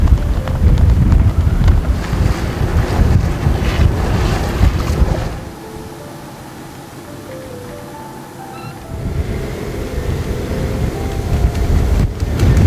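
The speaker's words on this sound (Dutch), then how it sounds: "Ja, het is harde wind voor de mensen van de zeilschool." Strong wind buffets a sailing boat on Dutch waters near Stavoren, roaring over the microphone with rushing water and hull noise. It eases briefly midway, then builds loud again.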